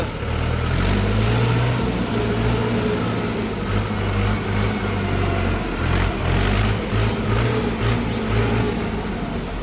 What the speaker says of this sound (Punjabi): ਹੁਣ ਟਰੈਕਟਰ ਕਰਨਾ ਆਪਾਂ ਅੰਦਰ